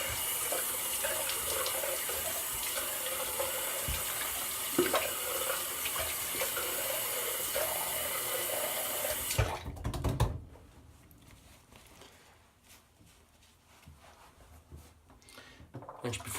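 Running tap water for a cold water rinse after a shave with Williams mug soap, a steady close rush that stops abruptly about two-thirds through, leaving quiet room tone.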